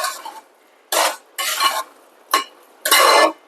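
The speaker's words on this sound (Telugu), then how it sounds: "మసాలా బాగా వేగి మంచి స్మెల్ అయితే వస్తుంది" Masala being fried and stirred in a pan for a small-crab curry, four or five separate bursts of scraping and sizzling with quiet gaps between, close and loud, no talking.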